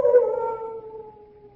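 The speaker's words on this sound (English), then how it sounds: "Only the dogs, monsieur. They keep many dogs, large dogs at the Chateau d'Azay." A large dog at the Chateau d'Azay lets out a single drawn-out howl that slowly falls in pitch and fades, heard alone at moderate distance.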